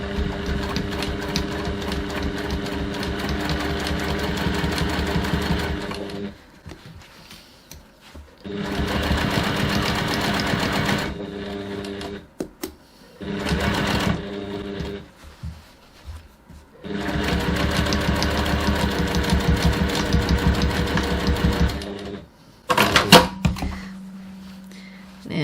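An electric sewing machine stitches seams on a fabric bag, running in long steady bursts of rapid mechanical whirring separated by pauses, with a few short runs and clunks near the end.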